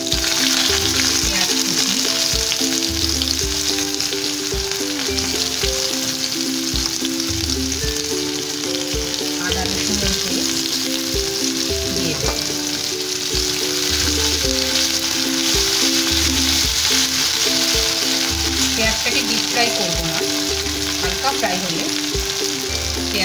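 Onion paste frying with nigella seeds, bay leaf and dried red chilli in oil left from frying eggplant, a steady dense sizzle close by with occasional soft stirring scrapes and light utensil taps, no voices.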